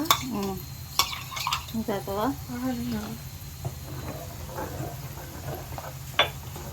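Okra frying in a pan with peanuts, stirred with a metal spoon that clinks and scrapes against the pan in bursts over a soft sizzle, while a person talks close by.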